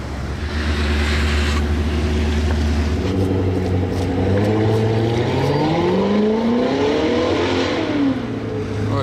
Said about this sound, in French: C'était le bruit de la Corvette à droite.